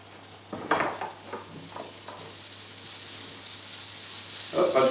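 Onions and meat fry in butter with a little water in the pan, giving a steady close sizzle with some stirring scrapes and a swell of hissing near the end.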